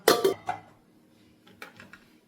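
A metal pan is lifted out and set down for cooking pasta sauce: two or three sharp close clanks at the start, then quieter light knocks and rattles after a short silence.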